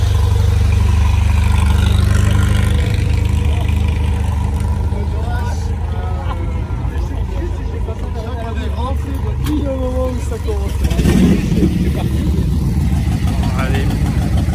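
Aston Martin DB2 engine at an outdoor classic car club gathering, a steady loud low rumble with some revving throughout, mixed with crowd chatter and voices nearby.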